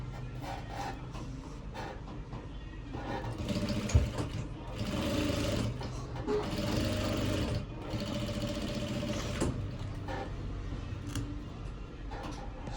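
Sewing machine top-stitching a shirt chest pocket, a steady close whirring run with a brief knock and short pauses, going on without speech.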